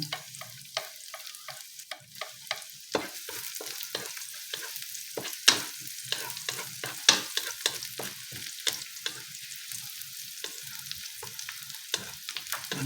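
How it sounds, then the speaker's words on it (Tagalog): Onion and garlic sauté in a pan ahead of corned beef, with a faint sizzle under frequent sharp taps and scrapes of a utensil stirring against the pan. "Kailangan mag-brown-brown na siya"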